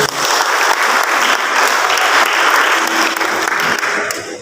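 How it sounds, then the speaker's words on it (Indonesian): A church congregation applauds loudly and continuously during a Christmas service at Bethany City Harvest Waena, a dense, close wash of many hands clapping with a faint crowd murmur, no speech. "Kita beri tepuk tangan buat Tuhan."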